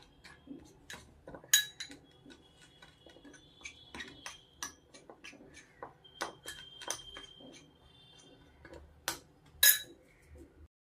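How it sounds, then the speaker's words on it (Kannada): A spoon mixing paneer dessert in a bowl, giving quiet, irregular clinks and taps of metal on the bowl scattered over several seconds, with a few sharper knocks and soft rustling between them. "ಹಾಕ್ಕೊಂಡು ಸ್ವಲ್ಪ ಚೆನ್ನಾಗಿ ಮಿಕ್ಸ್ ಮಾಡ್ಕೊಳ್ಳೋಣ"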